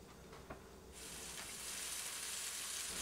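Leg of lamb laid seam side down into hot oil, starting as quiet background and then swelling into a steady, close sizzle that holds and grows slightly louder.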